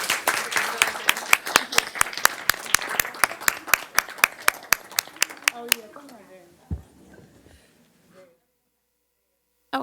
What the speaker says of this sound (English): Let's give our student reps on the school board another round of applause.